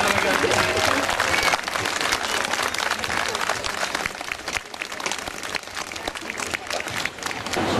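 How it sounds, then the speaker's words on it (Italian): Applause from an outdoor crowd at a Sicilian horse show in Saronno, dense and loud clapping that fills the whole stretch and eases slightly toward the end. "Fatevi sentire, un grosso applauso."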